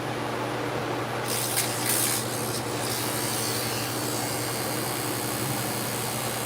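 Electric hair clippers with freshly sharpened blades run with a loud, steady buzzing hum, while a brief higher rasping cut comes in near the start.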